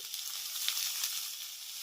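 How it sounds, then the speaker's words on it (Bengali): Chopped onion and vegetables sizzle in hot oil in a pan while being stirred, a soft, continuous crackling hiss with a few faint scraping touches and no talking. "আর এইভাবে নেড়ে চেড়ে আমি সবজিটাকে মিনিট খানেকের মতো একটু ভেজে নেব।"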